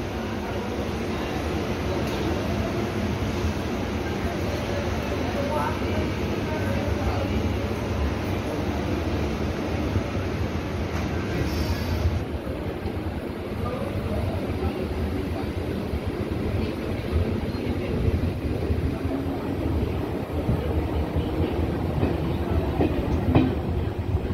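A commuter train pulls out of Uran station heading toward CBD Belapur, its steady rumble and rhythmic clickety-clack filling the clip loudly and continuously from start to finish.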